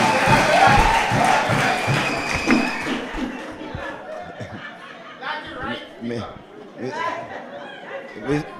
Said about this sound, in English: give claps and, of course, make some noise for your representative